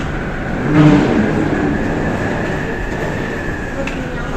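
The AirTrain to JFK Airport in New York City rolls along with a loud, continuous rumble and hum from inside the car, while an automated announcement plays over the noise.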